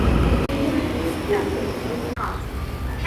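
Local train ride in Kaohsiung, Taiwan, a steady rumbling interior rail noise with faint tonal hums and two brief dropouts, with people talking under it.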